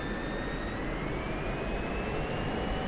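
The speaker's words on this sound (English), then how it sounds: "I just wanted to just do a quick video of this, my very first takeoff in the F-16." Continuous roar of an F-16C jet engine at takeoff power in the DCS World flight simulator, a dense, steady, loud rumble with a faint rising whine.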